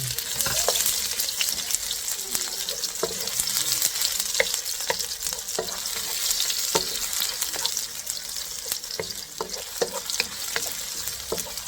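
Garlic fries in a pan toward golden brown, a dense, even crackling sizzle heard up close with light spatula ticks throughout and no speech.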